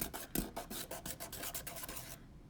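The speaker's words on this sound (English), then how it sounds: "you ain't trying to sand all the way through the item" Hand sanding a plastic part for a DIY RC tire wash, with rhythmic rasping strokes scraping back and forth, close and fairly loud, and no talking.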